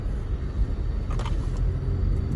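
A car climbs a hill on the drive out of the power dam, giving a steady low engine rumble and road noise heard from inside, with no talk.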